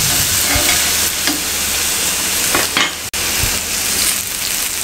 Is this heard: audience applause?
no